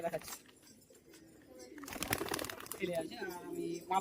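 Giribaz pigeons at a bird sale coo in low throaty rolls under someone speaking nearby, with a brief rustle of wings or handling midway.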